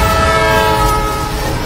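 A futuristic train in a film roars loudly and steadily, a dense rumbling rush with sustained horn-like tones throughout, with no talking.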